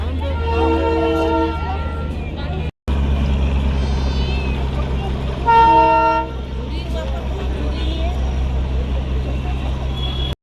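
A horn on the Darjeeling Himalayan Railway toy train at Batasia Loop sounds two steady harmonic toots, one early and one mid-clip, over a constant low engine rumble and outdoor crowd noise.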